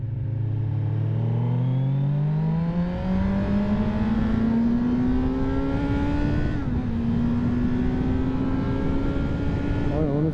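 A 2024 Kawasaki Z900 A2 four-cylinder motorcycle accelerates, its engine note rising steadily in pitch through the gears, with one brief dip at a shift, loud and close throughout.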